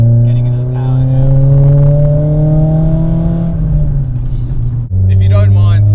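A Nissan S15 Silvia accelerates hard from inside the cabin, its engine note climbing steadily for several seconds before a brief break for a gear change, then pulling again, loud and close.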